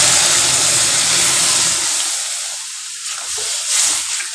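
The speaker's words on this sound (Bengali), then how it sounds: "এবার এর মধ্যে আমি ডালটা আস্তে আস্তে করে তুলে দেব।" Red lentils poured into a hot pan of chicken curry give a loud, steady sizzling hiss that fades slightly as it settles, with no voices over it.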